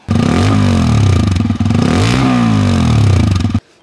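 A motorcycle's side-mounted exhaust blares close by, revving up twice in quick swells with a throaty, rasping growl before cutting off abruptly.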